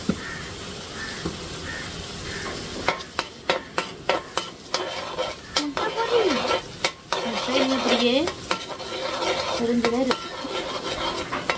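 Pan kottu being mixed in a pan with a utensil, repeated sharp metallic clanks and scrapes in an irregular rhythm over a steady sizzle, with brief bits of background voice.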